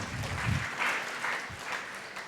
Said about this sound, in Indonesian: Yang mau berhasil berikan tepuk tangan meriah buat Tuhan kita